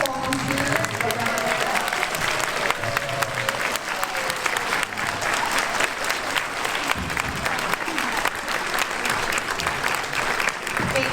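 A crowd applauds standing volunteers at a Laguna Woods Village show, sustained full clapping at a constant level throughout, with some crowd murmur mixed in.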